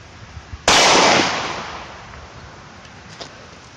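A single loud, sharp shot from a Glock 30 slim frame pistol at a shooting range, close by, its report ringing out and decaying over about a second, with faint clicks of handling before and after.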